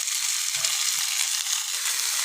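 Finely chopped large onion frying in hot oil, a steady, dense sizzle running unbroken throughout with a few soft low knocks of a spoon.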